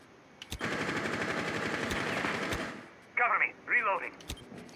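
Rapid automatic gunfire from Rainbow Six Siege on the plane map in a team deathmatch bursts loud and dense for about two seconds, then stops as a person talks briefly.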